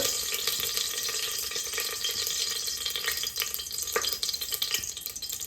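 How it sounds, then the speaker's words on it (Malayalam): Oil sizzles steadily up close while mustard seeds crackle and pop in quick, irregular bursts. "ഇനി ഇതിന് കടുക് വറക്കാൻ വേണ്ടി യൂസ് ചെയ്യുന്നത്"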